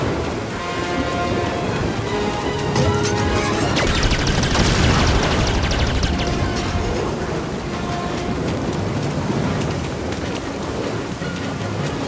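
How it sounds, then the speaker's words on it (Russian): Blaster gunfire in the Star Wars Jedi Fallen Order video game, dense crackling bursts and booms over a constant rushing din, loudest in the middle. "Надо успеть между выстрелами."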